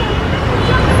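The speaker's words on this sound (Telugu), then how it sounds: "ఫుల్ ట్రాఫిక్ మామ," Dense road traffic near Punjagutta metro station in Hyderabad, a loud continuous roar of engines and tyres close by, with a background murmur of people.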